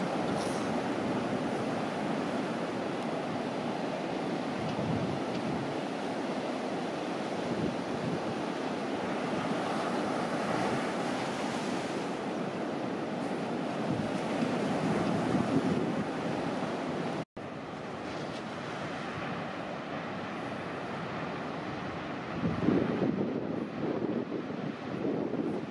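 Ocean waves break on the beach at Lacanau in offshore wind: a continuous roar of surf with wind buffeting the microphone throughout and a brief cut partway through, no voices.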